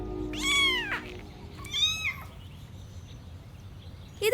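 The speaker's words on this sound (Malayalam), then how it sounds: "എടുത്തി വഴിയിലെങ്ങാണ്ട് കിടന്നിരുന്ന പൂച്ചയാ." A cat gives two clear, drawn-out meows, close and fairly loud, separated by a short pause against a quiet background hum, with a faint sound at the very end; the cat is a stray with an injured leg.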